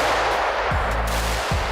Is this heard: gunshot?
yes